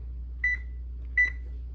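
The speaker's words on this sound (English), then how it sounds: "The timer went off." A kitchen oven timer gives two clear electronic beeps spaced under a second apart, crisp and close over a low steady hum.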